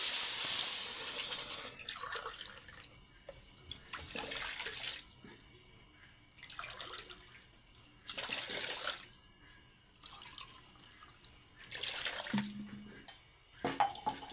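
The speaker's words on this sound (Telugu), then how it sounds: "రెండు గ్లాసుల షుగర్కి మూడున్నర గ్లాసుల వాటర్ పోసుకోవాలి" Water pours in several separate bursts with pauses between them, splashing into a metal cooking pot close by over sugar for syrup, with an occasional clink of the pot.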